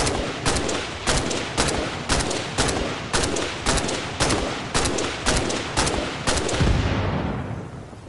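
Repeated loud gunfire from a Halo mod in the video game Arma Reforger, with about fifteen heavy evenly spaced shots or short bursts and a lingering boom at the end, no talking.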